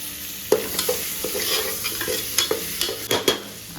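Vegetables, tomato and dry spices are stir-fried in a single pot for mixed veg masala rice: a continuous close sizzle broken by repeated scraping, clinking stirs of a spoon against the metal pot, with no talk.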